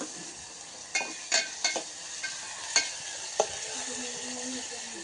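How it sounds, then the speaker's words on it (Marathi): Spices sizzle quietly in hot oil for tempering on a wood-fired stove, a constant soft hiss broken by several sharp clicks and scrapes of a spoon stirring. "भाजीला घरात चुलीवरची फोडणी दिली कसा आवाज आला पाहिजे"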